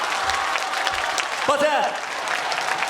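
An audience at a journalists' association anniversary gala stand-up comedy show applauds, a dense steady patter of clapping under someone speaking loudly over it.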